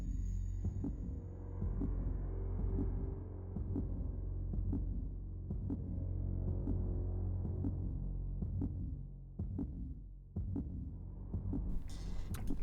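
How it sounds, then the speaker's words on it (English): Low, steady heartbeat thumps repeat in a regular throbbing pulse beneath a droning hum in Mass Effect 2, playing alone with no voices. "I think we're hearing the heartbeat thing right now"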